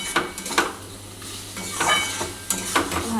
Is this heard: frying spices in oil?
yes